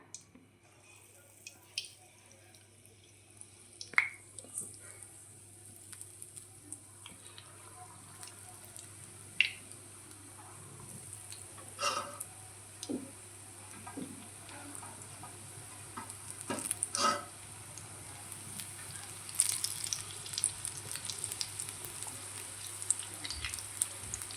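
Methi gota fritters frying in hot oil: a quiet, steady sizzle with scattered small crackles and pops, growing slightly busier as batter drops go in, no talking.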